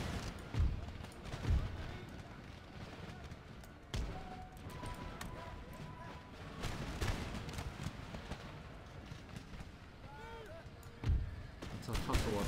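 Musket volleys ring out across an Empire: Total War battlefield as two lines trade fire, with scattered cracks and a few heavier bursts under constant battle ambience while someone talks over the din.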